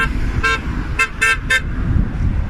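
Several car horns honk in short bursts over a steady roar of street noise, some beeps overlapping, loud and close.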